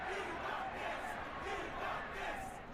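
A huge arena crowd of about 19,000 people cheers and roars in an advertisement, a sustained, swelling wall of voices with rising and falling surges.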